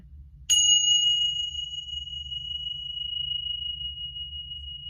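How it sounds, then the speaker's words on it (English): One clear strike of a ritual bell, used to clear the energy, rings out and then sustains a long, pure shimmering tone over a low background hum. "let me just ring the bell here and clear the energy"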